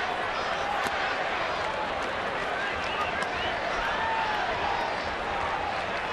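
Baseball stadium crowd roaring after a deep home run into the bleachers, a dense, sustained cheer that holds steady throughout, with voices audible over it.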